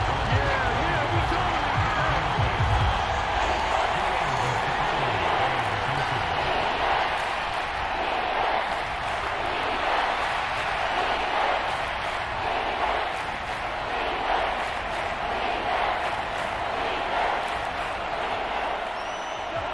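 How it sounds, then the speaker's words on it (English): Stadium crowd noise from the Madden 25 football video game, Falcons against Saints: a steady, roaring wash of cheering that stays fairly even throughout, heard at moderate level without distinct breaks. "This crowd turning up the decibel level."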